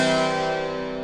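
Harpsichord with all three sets of strings engaged, a single bright, full chord ringing and slowly decaying alone.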